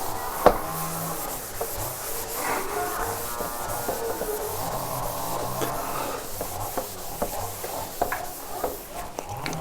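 Steady rubbing and scrubbing as writing is wiped off a classroom board, continuous and close, with a faint voice now and then under it.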